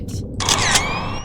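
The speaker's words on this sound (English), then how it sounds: "Push the shutter." A camera shutter clicks, a short sharp mechanical snap followed by a brief whirring release, close and clear with no talking.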